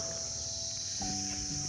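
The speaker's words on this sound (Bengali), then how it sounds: "চারিদিকে ঝিঝি পোকা ডাকছে, একদম শান্ত" Crickets chirp outdoors on a calm, sunny morning by a small roadside shop, a steady high insect trill held alone throughout, with faint lower tones joining near the end.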